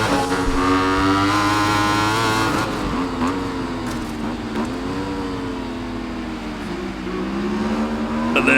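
Engines of 1000cc motorcycles rev and whine in the Ride 5 racing game during an endurance qualifying session, with pitch rising and falling steadily as the bikes accelerate and shift.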